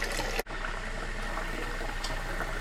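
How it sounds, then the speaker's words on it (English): Cold tap water pours steadily over cooked beets in a kitchen, a continuous close splashing rush with a brief break near the start. "Alright, so you can see the cool waters coming down over top of the beets."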